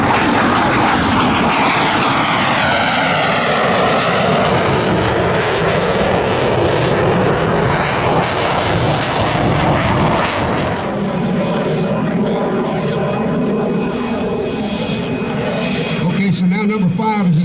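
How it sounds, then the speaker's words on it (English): A Blue Angels jet taking off at Pensacola Naval Air Station, a loud, continuous roaring engine rush that fills the whole stretch and shifts in tone as it passes, with a voice talking over it. "Blue Angel number 2 got his spare airplane, and he is rolling now, as you see, taking off"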